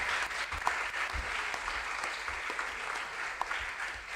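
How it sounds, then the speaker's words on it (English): A hall audience applauds the teachers at a regional junior science and maths quiz in the Ashanti Region, with steady dense clapping throughout and a few louder claps standing out. "Can we applaud them?"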